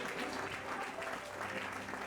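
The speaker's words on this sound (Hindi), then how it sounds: "आइए हम उस उद्धारकर्ता यीशु के लिए जोरदार ताली बजाकर उसकी महिमा करेंगे" Audience applause breaks out at a church sermon, a steady wash of many hands clapping together for the full length, fairly distant and even in loudness.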